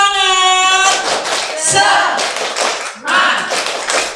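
School teachers in an audience perform a rhythmic spirit clap, sharp patterned bursts of hand claps with short pauses between groups, following a brief tonal sound at the start.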